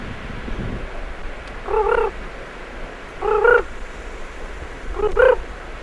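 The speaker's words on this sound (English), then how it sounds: "There's a frog over here." Three short croaking calls of frogs spaced a second or so apart, fairly clear over a low rumbling outdoor background with no talking, during a storm on Haida Gwaii.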